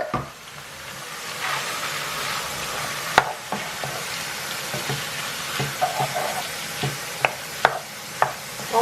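Tinned tomatoes tipped into a hot pan of chilli and stirred, giving a steady loud sizzle and hiss with occasional sharp clinks of the spoon against the pan, and no talking.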